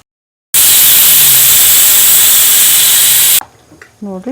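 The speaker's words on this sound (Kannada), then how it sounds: "ನೋಡಿರಿ 2 ವಿಸಿಲ್ ಆಗಿದೆ." A pressure cooker in a home kitchen lets out a loud, sustained hissing whistle of steam for about three seconds. It cuts off abruptly, and a voice speaks afterward.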